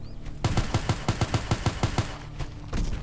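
Rapid burst of about a dozen gunshots fired at a chasing monster in a horror video game, close and evenly spaced over a couple of seconds, then a brief lull before a louder noise swells.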